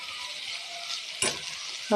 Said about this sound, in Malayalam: എന്നിട്ട് നമുക്കൊന്ന് ഇളക്കി കൊടുക്കാം.